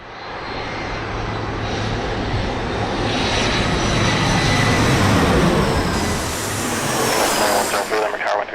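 A SkyWest airliner arriving from Boise, Idaho, lands at San Diego Airport on short final, its jet engines a loud, steady roar that swells toward the middle and then fades, with faint voices underneath.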